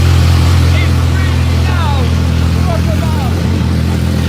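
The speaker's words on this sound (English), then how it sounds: "the Ferrari starts up and runs first time" A crash-damaged Ferrari F430 supercar under restoration runs with no exhaust fitted, giving a loud, steady, close engine drone throughout, with voices faintly over it.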